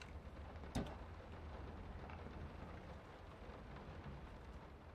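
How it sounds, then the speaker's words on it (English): Steady, loud rain hisses through an eerie mansion in the video game Layers of Fear (2023), a broad continuous wash with one sharp knock early on and no talk. "That rain is like super loud in some spots and then super quiet in others"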